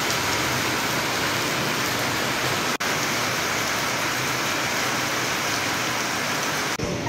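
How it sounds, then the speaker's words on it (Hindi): Steady rain pours outside a home, a dense, even hiss that continues without a break and with no voices, briefly dipping near the end. "देखिए बारिश होने लगी है"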